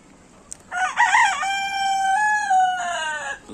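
A rooster crows loudly and nearby, one long drawn-out call, from a flock of egg-laying hens kept on a rooftop garden. A short cluck comes just before it.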